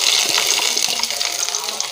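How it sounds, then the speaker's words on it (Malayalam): Chopped onions tipped into hot oil in a pan for rice upma set up a loud, steady frying sizzle, a dense hiss that carries on without pause and with no voices over it. "നമ്മൾ അരിഞ്ഞു വെച്ച ഉള്ളി ഇതിലേക്ക് ഇടുക"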